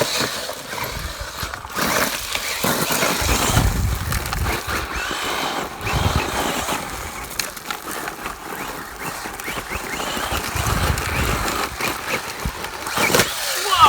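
A Traxxas Slash 2WD brushless RC car drives off-road over curbs, its electric motor whining and revving continuously with gravelly tire and chassis rattle, close and fairly loud throughout.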